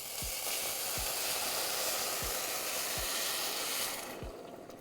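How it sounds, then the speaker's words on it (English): Water poured into a hot pan for Senegalese chicken mafe sizzles in a loud, steady hiss, with a faint repeated thump roughly every second, and the hiss eases off at the end. "when we pour the water, it should really sizzle"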